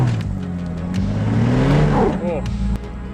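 A BMW X5 E70 SUV engine idles low and steady at around 900 to 1000 RPM while crawling up an off-road climb, a continuous loud drone with slight pitch shifts, as someone talks over it.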